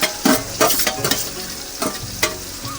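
Spices are tempered in hot oil in a pan, sizzling and spluttering loudly up close in repeated bursts as they are stirred, with no voices.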